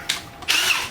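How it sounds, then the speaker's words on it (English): A power drill with a 1/4 inch bit bores mounting holes for a Ryobi storage cabinet, with two short whining bursts, the second longer, close and loud. "We'll drill our holes with a 1/4 inch bit."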